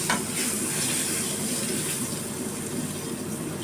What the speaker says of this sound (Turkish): Çok güzel kızarttı biberlerini.